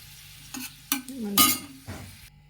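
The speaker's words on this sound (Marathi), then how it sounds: "मनुके असे तुपात छान फुलतात असे बघू शकता." Raisins frying in hot ghee for dry fruit laddu give a few short bursts of sizzling and bubbling, with one louder hiss in the middle and quieter crackle around it, close and without talk.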